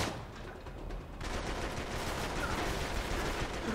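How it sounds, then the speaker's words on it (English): Continuous dense gunfire from an Uncharted 3: Drake's Deception shootout, a steady, loud barrage of overlapping shots that swells slightly after the first second and holds with no talk. "Might as well just start shooting him now."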